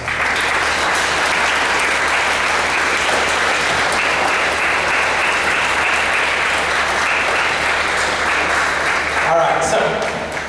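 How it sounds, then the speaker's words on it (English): At a school varsity band concert, a crowd of students applauds their parents, a sustained, loud round of clapping that carries steadily throughout, with a brief stir of voices near the end. "Kids, can you please give them a round of applause?"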